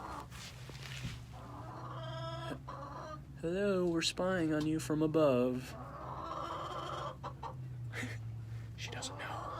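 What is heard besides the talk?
chickens clucking in a coop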